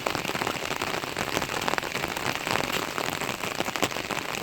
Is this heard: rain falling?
yes